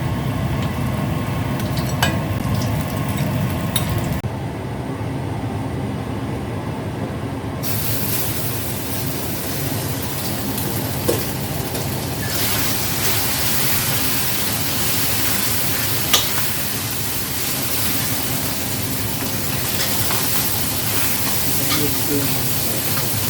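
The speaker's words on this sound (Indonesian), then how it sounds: "hari ini aku mau numis daun bawang, ditumis sama non halal" Spring onions being stir-fried in a pan, a steady broadband sizzle and hiss running throughout, with a brief quieter stretch early on and a voice talking over it.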